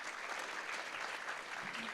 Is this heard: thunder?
no